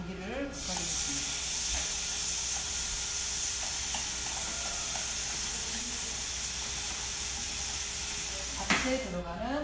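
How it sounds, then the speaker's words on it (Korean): Seasoned julienned beef for japchae sizzles in a hot pan with a steady close hiss throughout, and a few faint clinks and stirs underneath. "채썰어서 양념한 고기를 볶아주겠습니다"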